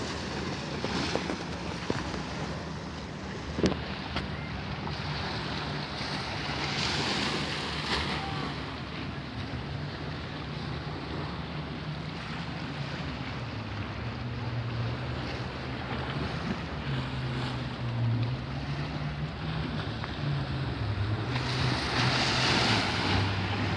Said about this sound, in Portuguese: você vai conhecer o quebra-mar aqui na Barra da Tijuca